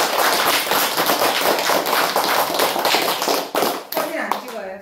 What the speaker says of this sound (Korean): 박수로 마칠까요?